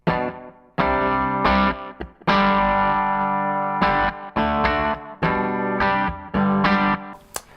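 Electric guitar run through an Empress Echosystem pedal set to a short slapback delay, playing loud chords and short phrases with quick repeating echoes and a brief gap between strums.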